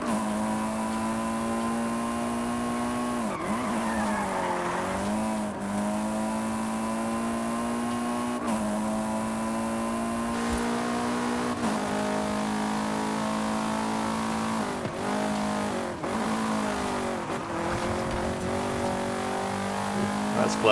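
Racing video game car on all-wheel drive, drift tyres and stock suspension, engine droning steadily with revving pitch sweeps as it slides and skids, loud and continuous throughout.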